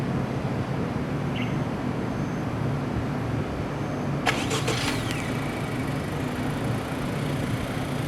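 A 2016 Honda Civic 1.5 TC-P engine starts by remote start, followed by a steady, mid-pitched idle running near and continuous throughout.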